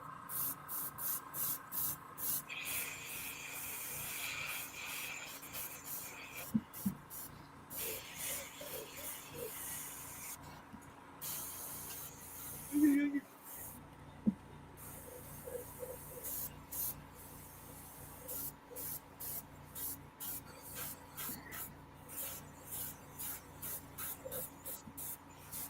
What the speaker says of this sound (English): Now, while I have this in my airbrush,